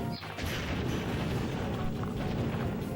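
Gunfire and blasts in the PlayStation game C: The Contra Adventure, a dense, loud, continuous barrage of shots and crashing booms with no pauses.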